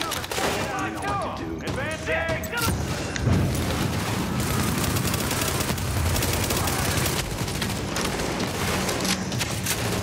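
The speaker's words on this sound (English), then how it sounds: "Just gonna throw this grenade." A grenade blast and bursts of gunfire in the Tom Clancy's The Division police academy mission, with loud repeated shots and booms crowding a dense, continuous firefight.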